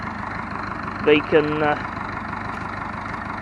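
A tractor engine idles with a steady, even low rumble throughout, while someone speaks briefly over it near the middle.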